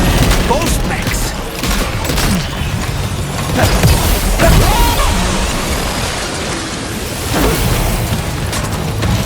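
Gunfire in the video game Death Stranding 2 during a fight with ghost mechs, a dense, loud barrage of blasts and booms that runs continuously amid a thick layer of game noise.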